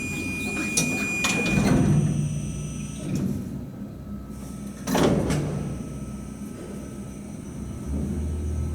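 Old, worn Montgomery freight elevator doors in a Minneapolis building work in sharp bursts: clanking slams and scraping metallic rattles come close by, with quieter mechanical hum and rumble in between.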